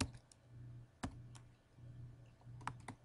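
A folder name is keyed in on a computer keyboard, a few faint, sparse clicks and keystrokes separated by pauses over a low background hum.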